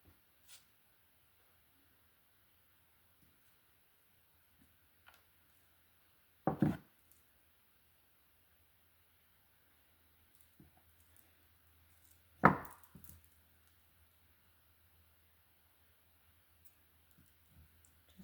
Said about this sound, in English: Getting my cutter. You just want to cut a few inches.